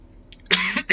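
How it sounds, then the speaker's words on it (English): One person gives a short, close cough that turns into a brief throat-clearing rasp, loud against an otherwise quiet indoor background. "Should I even be recording when I have this cough going on now?"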